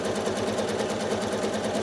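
A sewing machine stitches free-motion quilting in wiggly U-shapes on a house block, running as a steady, continuous close-up hum with a fast, even stitching pulse throughout.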